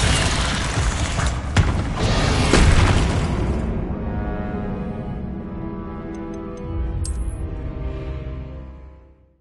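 A Bombarda explosion spell from the Hogwarts Legacy video game bursts loudly with a deep boom and crackling debris. The blast decays over several seconds into a low rumble, and a few small ticking sounds follow.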